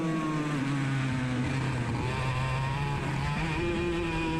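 A race car engine holds full throttle in a racing video game main event on a new track, a loud, steady, droning whine that rises and falls slightly in pitch throughout, with no voices.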